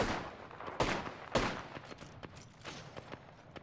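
Gunfire in Apex Legends, several sharp shots standing out at first and then a quicker run of fainter cracks, with no voices over them.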